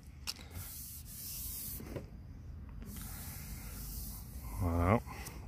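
A plastic car headlight being sanded by hand with 800 grit sandpaper, soft rhythmic rubbing strokes near the mic, with a voice briefly heard toward the end.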